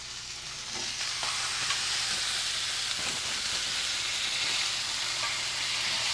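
Pork and peppers fry in hot oil in a pan, a dense, even sizzle with steady hiss running throughout, close and moderately loud, with a few faint knocks of utensils and no talking.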